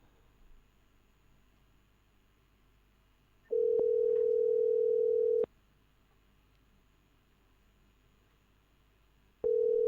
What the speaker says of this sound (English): It's ringing, people.